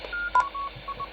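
Short electronic beeps sound as keys are pressed on a Malahiteam Mlite 880 receiver keypad. The tones come in a quick, uneven series of brief chirps over faint background hiss.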